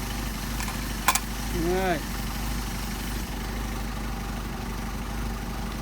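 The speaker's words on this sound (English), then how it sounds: "Engine's running better." Mercedes 190SL engine with Solex carburetors idling steadily, a low continuous rumble throughout with a short rising rev partway through, while a voice speaks briefly.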